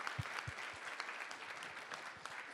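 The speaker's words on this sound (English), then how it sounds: "let's give a round of applause to the volunteers who gave up" Audience applause for volunteers at the closing of a Bitcoin expo at MIT: a steady wash of clapping from a crowd indoors, fairly soft and sustained with a few sharper nearby claps.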